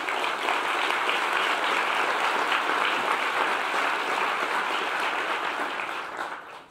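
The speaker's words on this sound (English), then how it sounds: "Let's give them all a big round of applause." Audience applause at the National Geographic Explorers Festival, a dense, even roar of clapping held steadily for several seconds before tapering off at the end.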